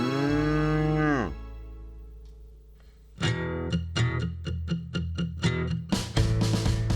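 Cattle lowing on a farm: one long, deep moo swelling then falling away, followed by a quick run of short knocking or clattering sounds and a louder rustling burst near the end.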